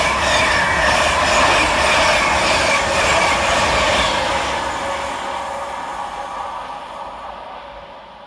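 Northern class 331 unit 331102 pulls into Adwick railway station with a loud, sustained rumble and rail noise that slowly eases as the train slows.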